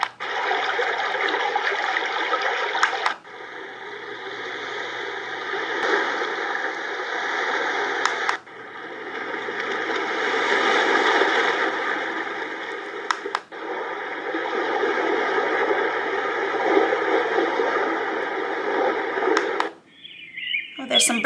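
A travel white noise sound machine plays a water-trickling setting as a steady, dense hiss of running water, switched abruptly several times between similar water tracks, loud and continuous.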